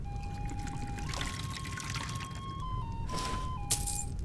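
Water pours into a glass in a continuous gurgling stream with a rising pitch as it fills, ending in a brief clink, heard close over a steady low background hum.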